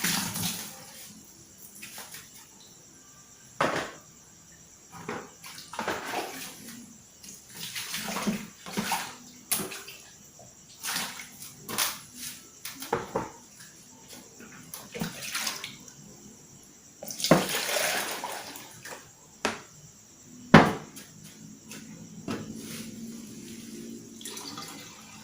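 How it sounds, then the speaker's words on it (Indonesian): Running water from a tap splashes as things are washed by hand at a poultry pen, with uneven bursts of gushing and spattering, some louder knocks and clatters, and no talking. "Kita cuci sekalian di sini."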